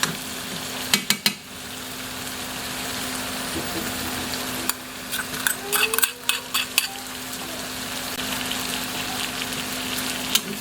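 Onions added to browned garlic sizzle steadily in a pan for chicken adobo, with clattering utensil stirs near the start and a cluster of scraping, knocking strokes midway over the constant frying hiss.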